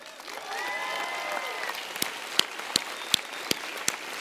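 Audience applause for the $15,000 contest winner at a QuickBooks Connect business conference, a steady broad wash of clapping with a few sharp louder claps standing out near the end, while a voice talks faintly underneath.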